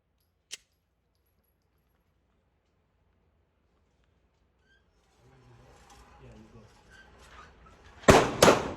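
A Taurus G3 pistol fires at a shooting range: one sharp, isolated report near the start, a long quiet stretch with low murmuring noise, then a louder cluster of blasts close by at the end.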